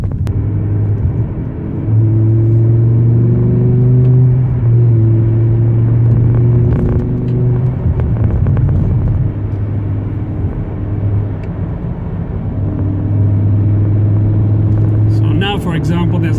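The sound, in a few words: BMW E60 car driving on road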